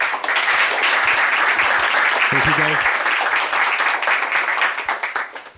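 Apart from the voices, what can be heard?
audience applause for moderator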